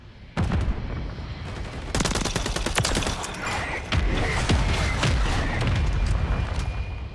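Mortar strike in the Call of Duty: Modern Warfare 3 video game: a sudden loud blast followed by a dense, sustained barrage of booming impacts and rapid gunfire crackling close by for several seconds.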